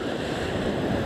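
Surf washes steadily against rocks during a fishing session by the sea, a continuous close rush of breaking waves mixed with wind noise on the microphone and no talking.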